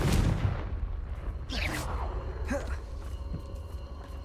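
Fiery Confringo blasts from Hogwarts Legacy boom close together, with whooshing spell bursts and crackling impacts under a loud, dense game soundscape while a voice talks.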